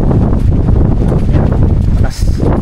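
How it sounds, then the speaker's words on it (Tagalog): Strong wind buffets a lakeside campsite in Tanay, Rizal, roaring steadily and loudly across the microphone with a brief dip near the end and no clear speech. "sobrang lakas ng hangin, nakakatakot mag-drone"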